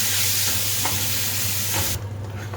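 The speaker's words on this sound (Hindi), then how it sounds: "और अपने टमाटर ऐसे अच्छे से चलाएं" Chopped tomatoes sizzle and fry in a pan with red chilli while being stirred, a steady loud hiss with soft scraping strokes that drops off sharply near the end.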